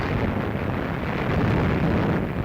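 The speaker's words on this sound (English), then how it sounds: "500 warships lay down a withering barrage" Naval bombardment from 500 warships off the Normandy coast on D-Day, recorded on archival wartime footage: a continuous dense, rumbling roar of massed gunfire and explosions, steady and loud throughout with no distinct individual blasts.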